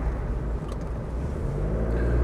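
A Land Rover Discovery 300Tdi with an automatic gearbox drives along, its low diesel rumble and road noise steady and close from inside the cabin, with no talking.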